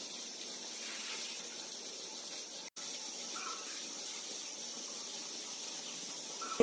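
Heavy, clean rice seeds are poured into a basin of clean water during seed treatment, giving a faint, steady watery hiss that runs on without a break.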